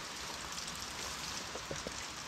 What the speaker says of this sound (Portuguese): Muita chuva, cara.